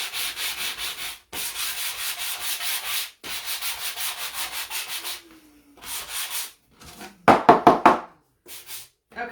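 Hand sanding of a wooden Christmas church cutting board, with repeated scratchy strokes in bursts separated by short pauses, close and fairly loud, followed by a few sharp knocks near the end.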